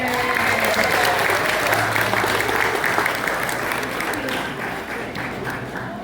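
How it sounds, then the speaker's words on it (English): A live crowd at a Dollywood bird show, Wings of America, applauds Buster the bird with dense, loud clapping that tapers slightly toward the end. "can I get a round of applause for Buster?"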